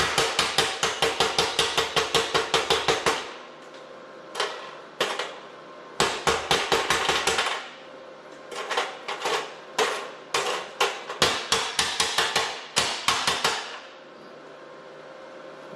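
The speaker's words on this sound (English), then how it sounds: "So let's knock the slag off." A hammer chipping slag off a flux-core weld, a close, loud run of sharp metallic taps in quick bursts with short pauses between them, no voices.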